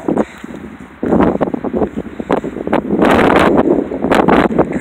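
Gusty wind buffets an outdoor microphone near a vineyard and barn in early spring, rising and falling in loud broadband rushes with brief lulls, no voices heard.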